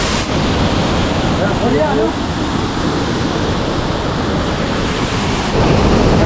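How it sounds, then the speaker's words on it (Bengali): Swollen by monsoon rain, a waterfall at Ravangla, Sikkim roars with a dense, continuous rush of water, loud and close, without a break. "এই বর্ষাতে ঝর্ণার স্রোত আরও বেড়ে গেছে"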